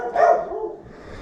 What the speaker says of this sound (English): There go my dogs barking.